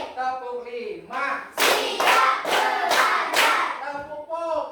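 Children in a classroom clapping game deliver a tight run of about five loud, crisp claps in unison, with a teacher's voice speaking just before and after the claps.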